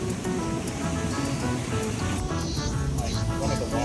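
Rushing water roars at Iguazu Falls in Argentina, loud and steady throughout as a trail leads close to waterfalls such as Salto Bosetti and Salto dos Hermanas, with faint voices mixed into the broadband roar.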